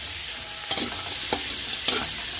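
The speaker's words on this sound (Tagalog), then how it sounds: "Gigisa tayo ng sibuyas" Onion being sautéed in a pan for pancit bihon guisado, a steady sizzle broken by three evenly spaced stirring scrapes, close and without talk.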